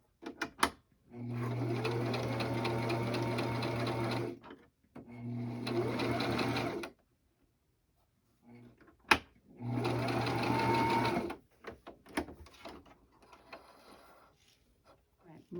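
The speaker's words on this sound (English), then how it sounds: "So let's go hem this up real quick, or sew it up." Sewing machine stitching a cherry pit heating bag closed, running in three bursts of rapid, even whirring separated by pauses, with faint handling clicks and rustling in between.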